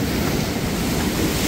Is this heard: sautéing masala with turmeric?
no